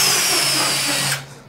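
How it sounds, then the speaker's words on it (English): A Dewalt drill with a Drill America 3/32 bit bores a pilot hole for a camlock install, a loud close whining buzz that holds steady for about a second before cutting off and winding down. "first we're going to drill our pilot hole with our Dewalt drill"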